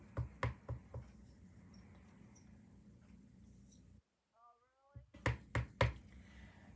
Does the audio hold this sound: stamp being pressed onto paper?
yes